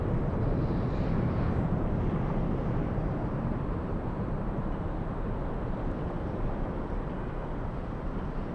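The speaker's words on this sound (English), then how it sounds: "Southwest 983, a 737-700 flying to Albuquerque" A Southwest Boeing 737-700 jet airliner at LAX on a gusty day gives a steady, deep engine roar that holds throughout, broad low rumble with wind-like hiss and no talk.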